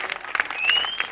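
Applause from an outdoor street audience gathered around a performer at a town square, a brief burst of clapping with crowd noise.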